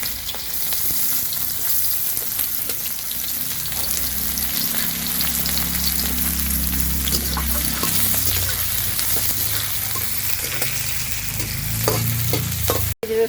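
Chopped onions fry in a pan while a grandmother cooks, a constant close crackling sizzle with scraping stir strokes and soft clatter over a low background hum, ending in a sharp knock.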